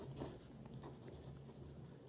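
Faint, close scratching of pen on paper comes through as an equation is written out, with soft irregular strokes and no speech.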